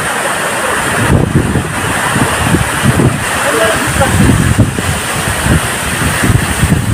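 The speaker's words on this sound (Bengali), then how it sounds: "মানে তুফান একদম বইছে, মনে হচ্ছে উড়ে নিয়ে যাচ্ছে" Strong wind blowing near Changey Waterfalls, a loud steady roaring rush with gusty buffets on the microphone while someone talks over it.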